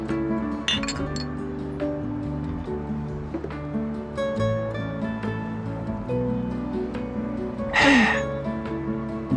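Glasses clink in a celebratory toast during a romantic drama scene: a bright clink near the start and a louder ringing one near the end, set against soft background music.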